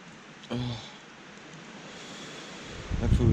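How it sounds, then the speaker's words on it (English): Gusty wind rushes steadily, with a brief voice-like burst early and a louder roar of wind buffeting the microphone at the end. "Oh, it's so windy."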